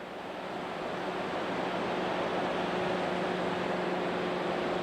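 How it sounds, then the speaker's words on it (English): Steady wash of surf and breeze on the beach near the jetty at Port Aransas City Park, a broad continuous roar with wind buffeting the microphone and a faint steady hum underneath. "We're now obviously on the beach, walking up towards the jetty in Port Aransas City Park"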